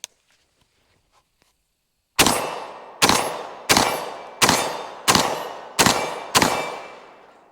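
A Beretta 1301 Tactical shotgun fires double-aught buckshot outdoors: seven loud, sharp blasts at a quick, even pace, each trailing off in a short echo, after a quiet lead-in.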